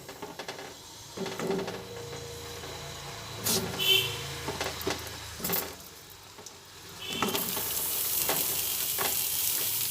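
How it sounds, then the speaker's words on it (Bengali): Pointed gourd (potol) slices dropped into hot mustard oil in a wok, bursts of sizzling and stirring that swell into a steady loud fry toward the end, with a person talking over it. "সর্ষের তেলটা গরম হয়ে গেছে এই কড়াইয়ের মধ্যে দিয়ে দিচ্ছি পটলগুলো"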